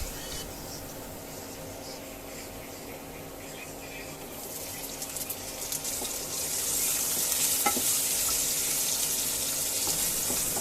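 Garlic frying in a pan for a chicken and vegetable Chinese-style dish, a steady sizzle that grows louder and brighter partway through, with occasional utensil clinks, close and without speech.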